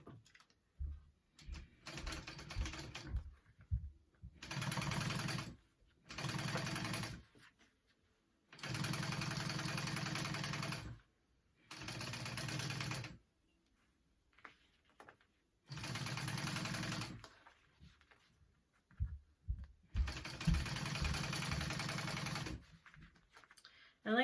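A sewing machine stitches a handbag in repeated bursts of a few seconds each, separated by quiet pauses, running close and fairly loud.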